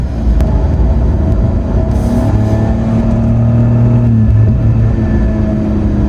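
A 2020 Karma Revero GT hybrid luxury car with rear electric motors accelerates steadily, its drive tone rising as a continuous, loud hum and whine with no talk over it.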